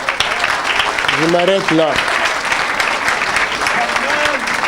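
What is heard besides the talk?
audience applauding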